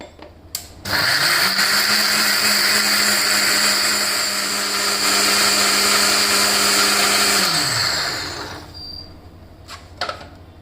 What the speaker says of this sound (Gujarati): હવે આ બધી સામગ્રીને મિક્સરમાં ક્રશ કરી લઈશું